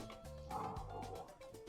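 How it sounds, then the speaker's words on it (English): Short yips and barks from dogs playing in a home kitchen, fairly close with a low background hum, brief and without talk. "The dogs like to play right when it's time to do stuff"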